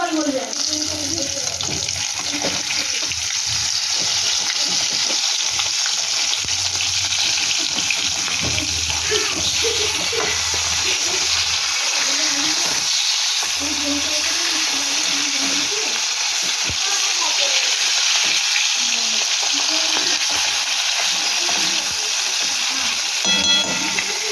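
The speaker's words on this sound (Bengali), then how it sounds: "তো এবার ভেজে ফিরছি, ভালো করে ভেজে ফিরছি" Pieces of snakehead fish frying in oil give off a continuous, even sizzle that holds steady and close for the whole stretch.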